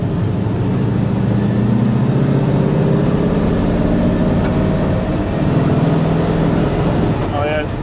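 Carbureted V8 engine running rich, with a blown power valve, drones steadily from inside a moving car, low and loud with a wavering pitch and wind noise over it, continuous throughout.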